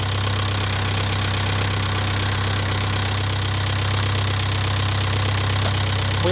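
Close up, a Seat Altea engine idles just after starting, running on a cylinder head taken from a scrapyard car and missing one bolt, with a steady, even rumbling drone and no talking.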